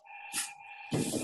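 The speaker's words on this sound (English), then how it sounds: "see if you can hear the cat meow" A Zoom door greeter toy, set off by opening a door, plays a short synthetic electronic cat meow that holds a steady tone. A brief noisy rustle follows close by.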